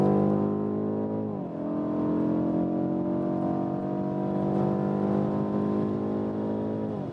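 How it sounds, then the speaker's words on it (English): A BMW M850i coupé engine revs hard on a racetrack, rising in pitch, briefly dropping at a gear shift, then climbing again in a strong sustained pull. "then hard on the gas again"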